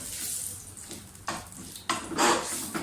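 Oil sizzles and crackles in a pan as spices are tempered for moong dal tadka, with several sharp metallic clinks of a spoon or utensil against cookware.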